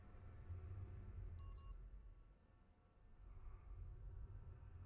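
A motion alarm in a live-streamed game gives a short, bright electronic beep, two quick pulses standing out over a low background rumble.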